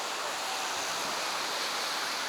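Ocean surf at Wattamolla beach on the New South Wales coast rushes as a steady, even wash of broadband noise, fairly soft and unbroken, with no voices over it.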